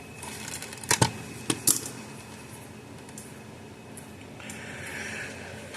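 Three or four sharp snips of wire cutters and strippers working wire inside a Gallagher M800 electric fence energizer under repair, close and crisp in the first two seconds, then a quiet room with soft handling noise.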